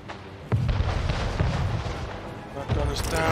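Artillery guns firing in the Anno 1800 strategy game, with a sudden heavy boom followed by sustained rumbling blasts and a second burst near the end, loud and close under a game soundscape.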